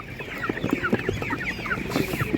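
Broiler chickens cluck close by at an outdoor animal market in Ukraine, a quick run of short, uneven clucks and squawks over a low background murmur.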